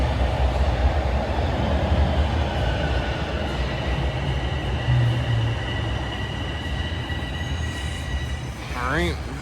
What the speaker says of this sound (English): and there comes the train.